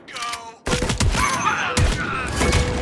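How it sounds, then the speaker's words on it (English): Gunfire in the VR shooter Spatial Ops on Meta Quest 3, aimed at a corner: a burst of rapid, loud shots with short gaps, continuing steadily and close for nearly three seconds. "So watch as I shoot this corner."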